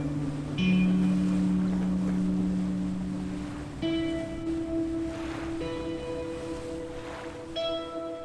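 Boat engine droning steadily with sustained tonal hums and whistles shifting in pitch, alongside water and wind noise throughout, no talking.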